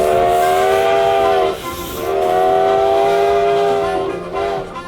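Canada's last operating steam locomotive sounds its whistle in two long, loud, steady blasts and a short third, with a constant rush of escaping steam hissing beneath.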